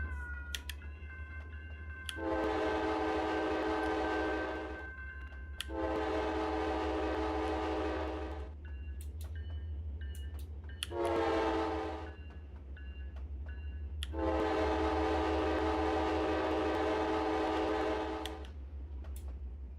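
Trains in Trainz Railroad Simulator 2019 rumble along steadily while a long game horn sounds in four blasts, the third one shorter, with a constant low engine drone underneath.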